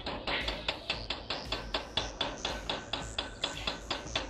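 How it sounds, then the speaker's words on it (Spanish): A small metal workpiece clamped in a mechanical vise takes light, soft hammer taps, about five per second in a steady, even rhythm, close and clear with no talking. "en el tornillo mecánico y con golpes del martillo súper suaves, tratando de que no se marque"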